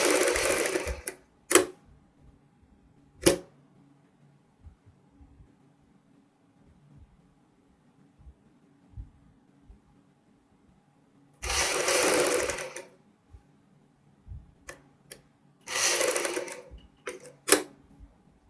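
Sewing machine stitching dress panels in short bursts, each a rapid mechanical whir lasting under a second to about a second, separated by long quiet pauses, close and clear with no voices.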